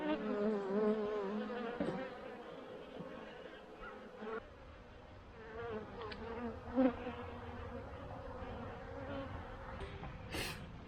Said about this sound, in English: Let me smoke those bees and see what I can see.